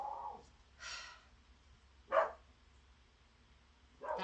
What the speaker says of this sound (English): He was barking at somebody.